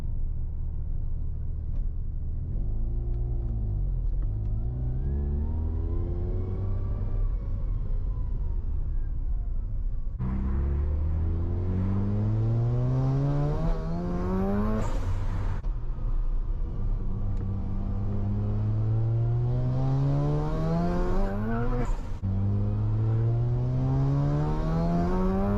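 A Mazda RX-7 rotary engine with upgraded ignition coils runs steadily, then climbs in pitch through repeated rising revs and shifts, loud and close, with no voices.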